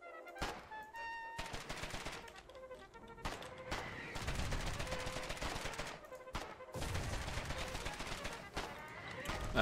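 Shelling or bombing lands around a command vehicle in the online war game Foxhole, heard as repeated sharp bursts and rumbling impacts in irregular clusters mixed with rapid gunfire, fairly faint and distant.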